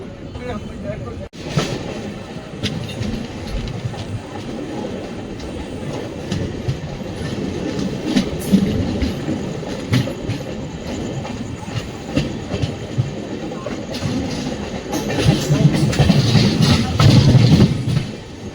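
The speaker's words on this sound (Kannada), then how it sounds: "ಇವಾಗ ನಮ್ಮ ಟ್ರೈನ್ ಎಂಟ್ರಾಗಿದೆ ರಾಯಚೂರು ಜಂಕ್ಷನ್ಗೆ." A Basava Express train rumbles steadily with rhythmic clickety-clack of wheels on track, growing louder near the end as it enters Raichur Junction, with faint voices in the background.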